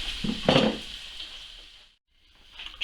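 Vegetables sweating in a pot for a spatchcocked partridge dish give off a soft, steady sizzle with brief stirring clatter near the start, fading to quiet before the sizzle returns at the end.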